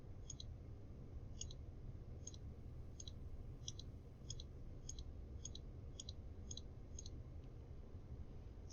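A computer mouse clicks at a steady, fairly even pace, about a dozen light clicks in a row, faint above a constant background hiss.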